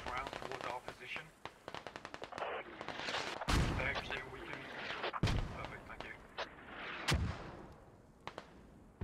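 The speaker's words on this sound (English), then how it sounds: "Dwarf has already sent mortars out on this position." Mortar rounds fire and slam down in the military shooter Squad, a string of loud booming impacts and sharp blasts amid rapid gunfire, with people talking over the chaos of the battle.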